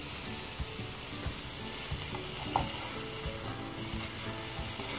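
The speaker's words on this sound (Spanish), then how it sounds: "Acá estamos cocinando las pechugas." Chicken breasts fry in a pan, a steady close sizzle with faint crackles and occasional soft knocks throughout, with no one talking.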